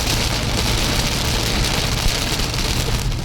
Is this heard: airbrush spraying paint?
no